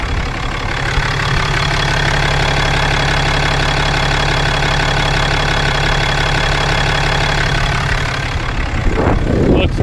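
A 2018 Cummins 6.7 diesel idles steadily close by after a fuel filter change, its low knocking rumble loud and unbroken throughout.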